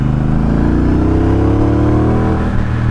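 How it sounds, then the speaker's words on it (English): Triumph Speedmaster motorcycle engine revving hard in second gear, a loud, steady, throaty roar that climbs in pitch as it accelerates, close and continuous with no talking. "I will drop down into second gear so you can appreciate this"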